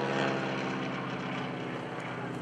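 A T-6 trainer airplane at an airshow drones steadily as it comes slowly over the top of a loop, a continuous loud propeller-engine roar with no break across the moment.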